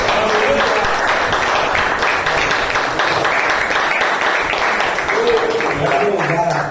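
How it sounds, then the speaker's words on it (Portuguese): A church congregation applauds during a Sunday worship service, a loud, dense wash of clapping that continues steadily throughout, with voices mingling underneath. "aplauda e adora."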